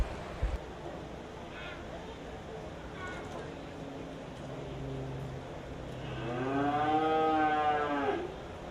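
At an FFA open show, feeder heifers low in the show ring. Faint, murmuring background and speech lead into one long, loud moo near the end.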